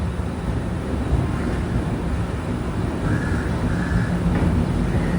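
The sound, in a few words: Konark Express train running from Mumbai CSMT toward Pune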